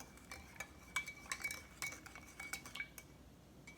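A spoon clinks repeatedly against a coffee cup while stirring in sugar, a quick irregular series of light metallic taps close by with no talking.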